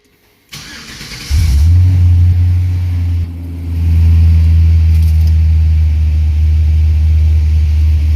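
A G-body car's engine cranks and starts, then settles into a loud, steady low rumble, briefly revving before returning to a smooth idle.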